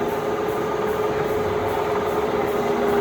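Enco 20x60 engine lathe running a feed, giving a steady, even machine hum with a constant tonal drone, close and continuous with no talk.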